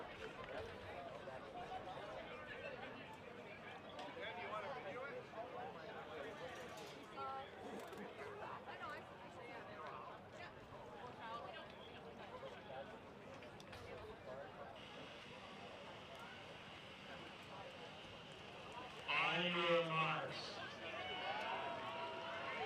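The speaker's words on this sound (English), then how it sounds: "You can see the excitement, hear the crowd with a roar." Stadium crowd at a night track meet before the start of a women's 4x400 relay at the Canada Games, a steady far-off roar and babble of spectators that swells briefly near the end.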